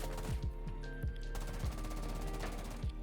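Automatic rifle fire from a gun fitted with attachments in Rainbow Six Siege, several short sharp bursts of rapid shots spaced across the moment, loud and close with no voices.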